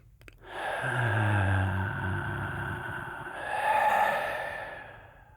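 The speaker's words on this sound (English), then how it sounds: "And just take a nice, calming, deep breath." A slow, deep calming breath is drawn in and let out close to the microphone in a quiet setting, soft and airy with a gentle rise and fall.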